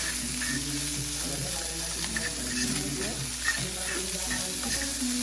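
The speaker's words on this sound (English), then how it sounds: "So I finished frying or whatever with the corned beef." Corned beef sizzles steadily in a hot frying pan, with occasional scraping and stirring clicks throughout.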